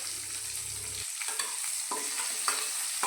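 Large onion frying in oil with panch phoron in a pan over low heat, a soft steady sizzle with several light scrapes of stirring, a low hum fading out early.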